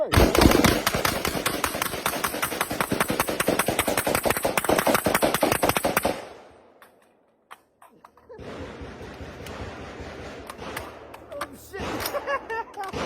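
Rapid burst of gunfire from a compact 300 Blackout gun, roughly 30 rounds in quick succession, loud and close for about six seconds, then stopping, followed by quieter handling noise and voices.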